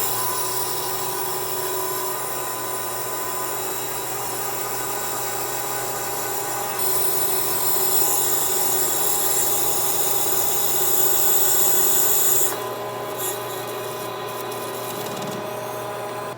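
A manual lathe turns a 6061 aluminum piston for an A.D. Baker steam traction engine, giving a steady, loud machining hum and whine with a constant cutting drone and bright hiss that holds throughout.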